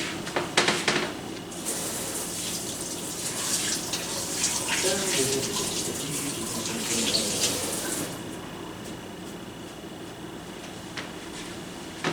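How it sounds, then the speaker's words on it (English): Tap water runs steadily into a sink while hands are washed beneath it, a continuous broadband splashing with a few brief clatters at the start and a short pause near the end. "what is one thing you do before you cooking? Wash your hands."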